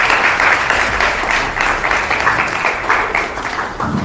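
An audience at an entrepreneurial summit in Nigeria's University of Benin applauds in a dense, continuous roar of many hands clapping together, steady and full throughout with no one speaking.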